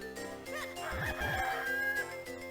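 A chicken crows in the video game Minish Cap, one clear cock-a-doodle-doo with bright, rising and falling tones heard alone over a faint musical backdrop.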